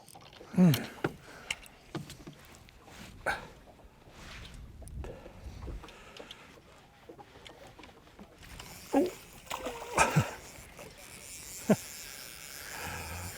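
Irregular splashes of a hooked fish jumping near a boat while fly fishing on a lake, sharp bursts that come and go, with excited voices speaking now and then.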